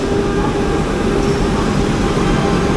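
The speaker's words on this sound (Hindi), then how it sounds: "गाजियाबाद का लोकोमोटिव WFE 7 लोकोमोटिव पुल कर रहा है सुहलदेव एक्सप्रेस का" A WFE 7 electric locomotive from Ghaziabad hauls the Suhaildev Express, producing a steady, loud, close rumble of wheels and carriages with a faint humming tone, unbroken throughout with no distinct speech.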